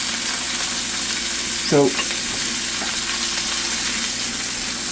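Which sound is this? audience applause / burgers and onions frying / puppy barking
burgers and onions frying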